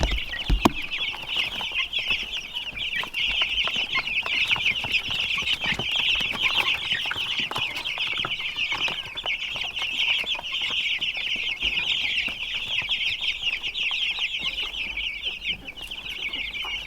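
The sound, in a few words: chickens clucking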